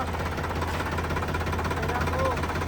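A Swaraj diesel tractor engine with about 1300 hours of use idles close by, a steady low rumble with a rhythmic knocking throb throughout.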